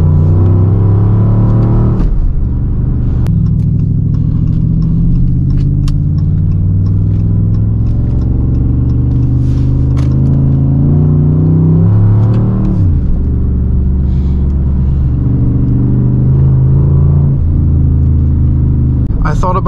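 A 5.7L Hemi V8 in a Dodge Charger RT drones steadily while driving, a loud, continuous low engine rumble with shifting pitch and a brief dip around the middle before it pulls back up; a voice talks over it.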